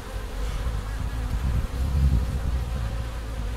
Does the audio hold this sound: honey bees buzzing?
yes